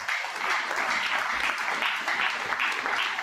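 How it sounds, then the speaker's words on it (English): A crowd at an alumni homecoming claps steadily after a speech, a dense wash of applause with no voices standing out. "Another round of applause."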